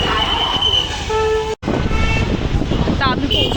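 Busy street traffic in Pune with car horns honking repeatedly, engines and road noise close by under light wind, a voice speaking briefly over the din.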